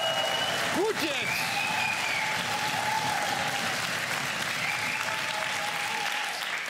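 A studio audience claps continuously on a German TV cooking show, a dense steady wash of applause throughout with a brief faint voice near the start.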